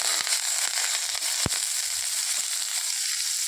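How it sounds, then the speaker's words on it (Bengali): Onions going into hot oil in a very hot wok after bay leaf and five-spice tempering, giving a loud continuous hiss and crackle with one sharp clack near the middle, no voices. "আর পেঁয়াজ দেওয়া হচ্ছে।"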